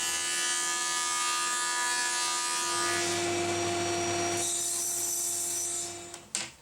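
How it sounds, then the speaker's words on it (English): Jointer planing the face of a wooden guitar fretboard for a Les Paul Junior style build, a steady close machine whine with cutting noise, ending in a few knocks as it winds down. "I'll take it to the joiner and we'll smooth one face out"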